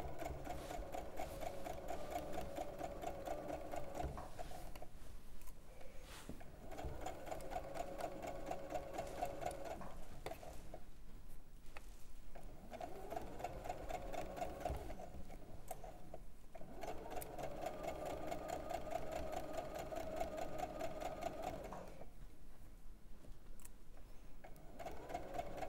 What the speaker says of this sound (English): So we're just sewing up